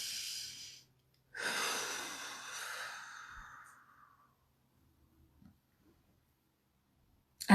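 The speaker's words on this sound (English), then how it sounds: "Deep breaths, everybody." A person takes a slow, deep breath, with a long audible exhale that fades out, followed by near silence and a faint click at the end.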